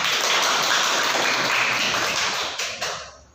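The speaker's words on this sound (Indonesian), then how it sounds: "Tepuk tangan buat kita." Classroom of students clapping together in a dense burst of applause that holds steady, then thins and fades out near the end.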